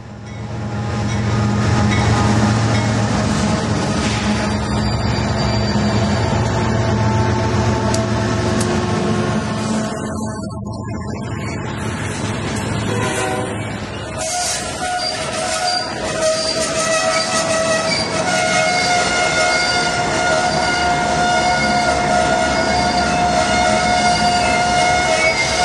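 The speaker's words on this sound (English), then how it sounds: "Here's another UP freight traveling southbound by compass, westbound by timetable" A long Union Pacific freight train rumbles past close by, wheels clattering and squealing on the rails, with a loud continuous roar throughout.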